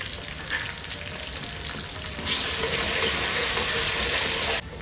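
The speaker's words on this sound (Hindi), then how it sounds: "अब मैं इसके अंदर ऐड कर रही हूँ जो हमारा लहसुन अदरक का पेस्ट रह गया था।" Ginger garlic paste and onions fry in hot oil for beef biryani, a steady close sizzle that swells louder and brighter partway through, then drops back near the end.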